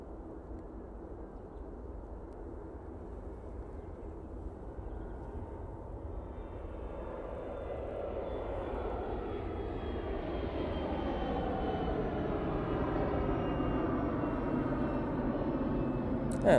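A fixed-wing airliner departing Manchester Airport for Amsterdam, its engine roar building steadily and rising in pitch over the takeoff run, heard from a distance outdoors, no voices.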